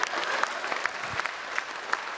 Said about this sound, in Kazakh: Қол шапалақ.